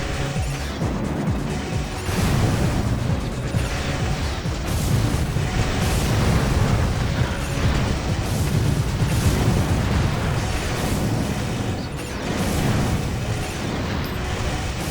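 Triple missile explosions in the Armored Core Silent Line video game, a dense continuous barrage of loud booms and crashes rolling for about fifteen seconds with no pauses.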